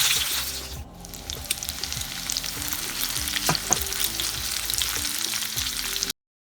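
Onions frying in a pan alongside chicken croquetas, a steady dense sizzle with crackling pops and occasional stirring scrapes, close and continuous with no talking.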